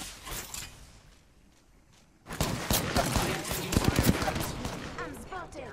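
Rapid gunfire in the battle-royale shooter Apex Legends around a building, a dense burst of close, loud shots erupting after a quieter stretch and rattling on to the end.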